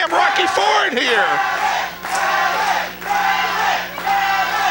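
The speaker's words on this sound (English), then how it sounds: "listen to this crowd. This crowd has come around to Alex Daniels" Wrestling crowd at a CWF Mid-Atlantic show roaring and yelling in sustained waves, loud and dense throughout, with shouted voices rising and dipping every second or so and a commentator talking underneath.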